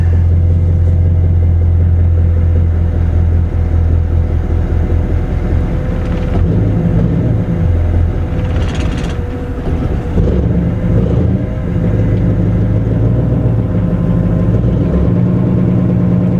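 A 1963 Ford Galaxie engine idling just after a cold start, a loud, steady, deep rumble with an uneven lope that runs throughout, close up and with no one speaking.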